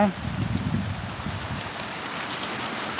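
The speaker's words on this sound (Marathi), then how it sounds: "भरपूर पावसाचं वातावरण झालेलं आहे ढगं पण बघा" Evening rain falls in a village and makes a steady, continuous hiss throughout. A voice speaks faintly beneath it at the start.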